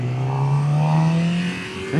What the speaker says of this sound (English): okay, so shifting up, clutch, upshift